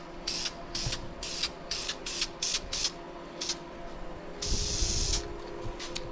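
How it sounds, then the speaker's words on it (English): A spray can of metallic coating fires a series of short hissing bursts onto a custom stainless steel exhaust for a Big Block C10, ending in one longer spray, close and loud with no talk. "Doesn't spray that well."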